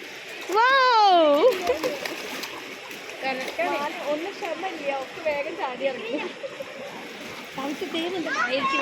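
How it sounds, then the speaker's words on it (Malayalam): Splashing water and excited children's shouts and chatter fill an echoing space, with voices rising and falling over the churn of the pool. "കുറേ നേരം ആ പൂളിൽ കുത്തി മറിഞ്ഞ് കളിച്ചിട്ടുണ്ട്."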